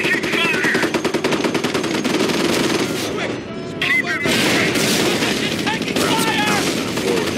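Machine gun fire in Company of Heroes, a World War II strategy game, crackles in dense, sustained bursts up close, with distant gunfire and explosions mixed in and a short lull near the middle; voices call out over the battle.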